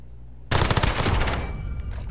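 AK rifle fire in a multiplayer shooter video game: a loud, dense automatic burst erupts suddenly and rattles on for well over a second before tapering off, with no talk.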